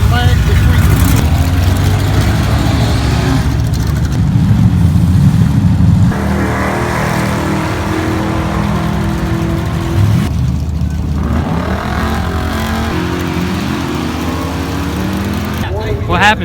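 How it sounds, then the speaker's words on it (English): A drag racing car accelerates hard down the strip at a drag racing event, its engine roaring loud and steady with quick clutch-bump shifts that leave no lag, the noise running continuously throughout. "You don't even let off the gas. You just bump the clutch and come out with a shift."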